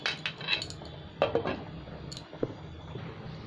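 Metal pot lid clinking and scraping on a cooking pot of fish curry with potatoes, a few close sharp knocks and rattles over a low hiss.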